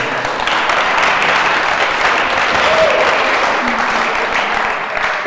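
Loud, dense clapping from an audience at a youth summit held at a provincial library, continuing evenly throughout without pause.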